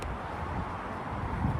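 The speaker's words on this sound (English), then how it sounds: "It's windy as hell out here," Strong wind buffets a microphone outdoors in a parking area outside a shop, a steady broadband rumble and roar that holds for the whole moment with no let-up.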